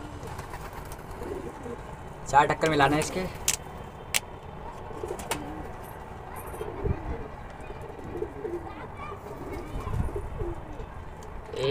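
Domestic pigeons coo softly in a short burst early on, with scattered calls and clatter around them, while someone talks over the birds during their deworming.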